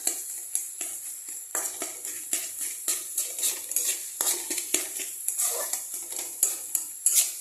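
Metal spatula scraping and knocking in a pan while singara filling is stirred and pressed flat, a steady run of close, sharp clinks and scrapes with a faint sizzle beneath and no talk.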